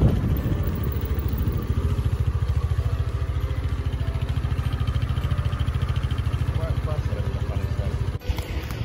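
Rented motorcycle riding along scenic coastal roads, its engine putting out a steady loud pulsing drone close to the rider with rushing wind noise, the throb holding even until a brief dip near the end.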